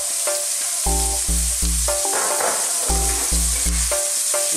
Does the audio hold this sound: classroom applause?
no